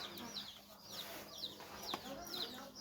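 Chickens cluck in quick repeated calls at feeding time, faint and a little distant, with voices in the background.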